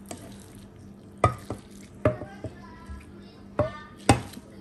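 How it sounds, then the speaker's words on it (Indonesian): Fried noodles with broth are stirred in a pan, with sharp utensil clinks and scrapes at irregular intervals over a low, quiet background. "Nah, sekarang kita aduk nih ya."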